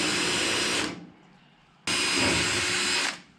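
Power drill boring a 2.5mm pilot hole for rear badge studs on a Toyota Land Cruiser FJ40/BJ40/HJ47 body, two loud steady whining bursts of about a second each separated by a brief pause.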